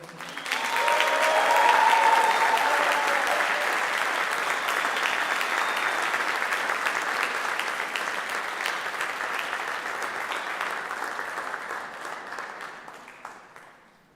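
Sustained applause from an audience at an MLK humanitarian celebration honoring awardees, a dense steady clapping that swells early and then slowly fades toward the end.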